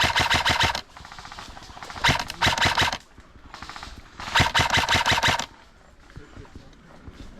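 Airsoft guns fire rapid full-auto bursts during an outdoor game, three loud close strings of shots separated by quieter pauses.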